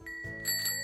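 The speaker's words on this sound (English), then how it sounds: "It's a rather sad sounding bell." The bell on an old Gazelle Solide bicycle gives one short, close ring, a thin metallic tone that fades quickly.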